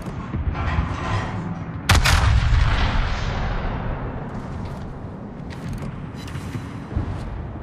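Main battery guns of the battleship Yamato firing in World of Warships: a single heavy, loud boom lands amid ongoing battle noise and trails off in a long rumbling decay, with a smaller thud near the end.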